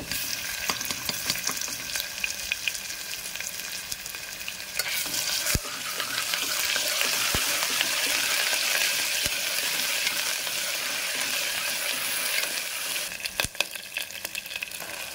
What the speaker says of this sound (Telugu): ఈ ఉల్లిపాయ వేగింది, దీంట్లో అల్లం వెల్లుల్లిపాయ పేస్ట్ వేస్తాను.